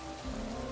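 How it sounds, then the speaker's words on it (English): Steady, dense rain pours down in a city alley scene in the video game Goddess of Victory NIKKE, a continuous close hiss of drops on surfaces with no voices. "Rain starts to pour down"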